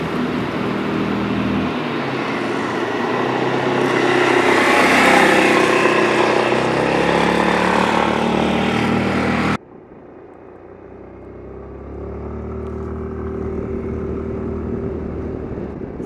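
Suzuki Burgman 400 ABS big scooter engine droning steadily while riding, with loud wind rush that cuts abruptly quieter partway, then the engine hum rising again.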